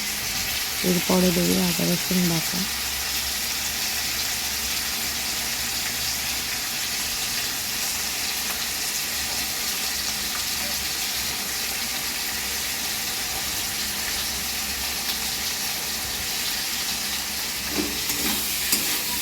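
Onions and spices sauté in a pan with a continuous, even sizzle that holds for the full stretch, while brief voices or clinks surface near the start and again near the end.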